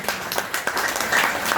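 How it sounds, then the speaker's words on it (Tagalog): A church congregation applauding during a worship service, a brief burst of dense clapping close by. "Palakpak po sa Panginoon."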